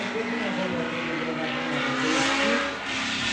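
A 700-horsepower BMW drift car rolls toward the start line at a drift event, its engine a steady close roar with rising revs that runs throughout, while a commentator speaks over it.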